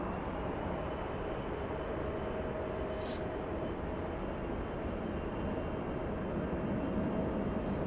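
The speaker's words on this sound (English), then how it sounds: "E175 beginning its takeoff roll" Embraer E175 jet airliner beginning its takeoff roll at Los Angeles airport: a steady, continuous engine roar with a faint high whine, heard from a distance and holding even throughout, with no voices.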